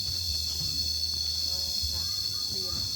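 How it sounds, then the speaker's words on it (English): A steady, high-pitched chorus of cicadas fills the air near a riverside restaurant at a Koh Rong ecotourism site. It drones on continuously at moderate volume, with faint low rumbles and light background activity beneath. "Enjoy the cicadas."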